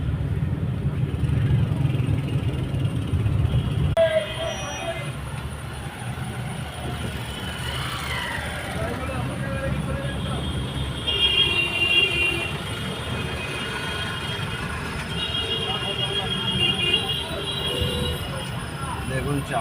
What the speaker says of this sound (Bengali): দেখুন চাপাডালিতে চারিদিক দিয়ে গাড়ি আসছে